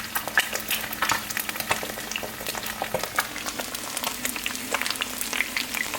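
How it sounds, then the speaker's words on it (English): A pot of cinnamon tea bubbles at a rolling boil nearby, a dense continuous crackle and popping of bursting bubbles at moderate level with no voices. "And that's the tea right there. See, boiling."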